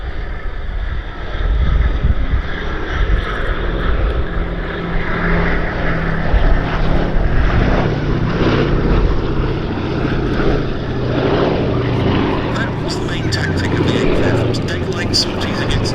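Sally B, a B-17 bomber, flying at the Duxford summer air show, a loud continuous roar of piston engines and propellers with wind buffeting, while a commentator talks over it throughout.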